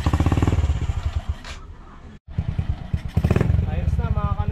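A Honda Wave 100 motorcycle engine running after a DIY carburetor cleaning: a loud, close, steady idle chug with a brief dropout midway, and someone talking over it.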